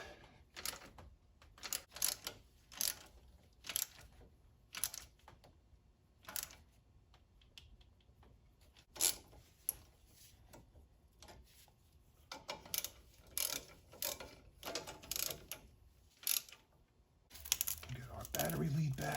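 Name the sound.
ratchet tightening bolts on Subaru alternator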